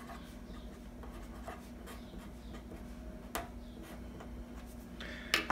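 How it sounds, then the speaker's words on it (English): A pen scratches and taps on paper while working out a math problem for an exam review, soft intermittent strokes over a steady low hum, quiet and close, with a sharper click near the end. "let me write it a little bit bigger"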